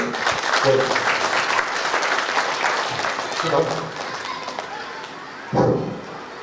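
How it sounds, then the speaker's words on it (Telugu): A crowd claps in sustained applause at a Panchanga Shravanam gathering in a temple in Perkit, fairly close and dense, tapering slightly before a final burst of clapping near the end. "మనస్ఫూర్తిగా ఒకసారి చప్పట్లతోటి"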